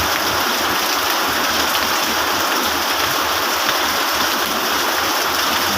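Heavy rain pours down in a dense, steady hiss, loud and close, with constant broadband wash and no let-up across the whole stretch.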